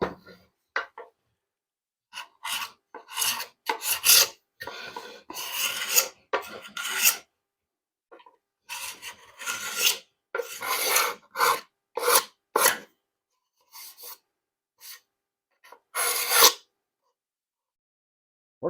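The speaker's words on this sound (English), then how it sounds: "and then start the sanding process." Abrasive rasping strokes on red oak wood to remove dried glue squeeze-out while building a desktop book holder; close, rhythmic scrubbing in short bursts separated by quiet pauses.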